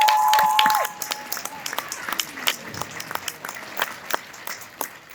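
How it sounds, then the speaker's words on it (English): An audience at a ballroom dance event applauds the dancers, with a brief tone at the start giving way to scattered, fairly close clapping that thins and wavers over several seconds. "Give them another round of applause"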